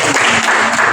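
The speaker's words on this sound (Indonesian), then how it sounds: "Oke, berikan aplaus." A class of students claps together in a short, dense, loud burst of applause, with no speech over it.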